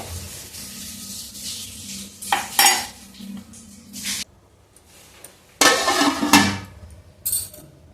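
A pot of chicken for biryani is covered with a plate while it cooks: metal clanks and scraping of the plate and pot break through a low sizzle, with louder bursts of clatter and sizzle in between.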